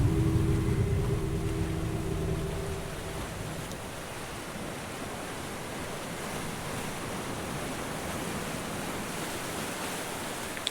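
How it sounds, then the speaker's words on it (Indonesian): Ocean waves breaking on a beach as a radio drama effect, a broad continuous roar of surf that starts slightly louder with a low rumble, then settles into a steady, even wash of foam and spray. "aku mendengar suara deburan ombak"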